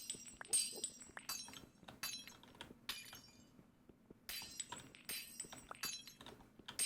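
Glowstone blocks break in the Minecraft video game, a series of crisp, crystal-like shattering bursts that come in quick repeated clusters at moderate volume, with no voices.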